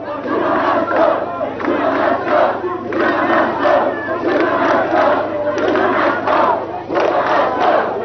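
Protesters from the BLF shout outside the Gupta compound in Saxonwold, a dense crowd roaring in rhythmic, chant-like bursts that pulse steadily and loudly without a break.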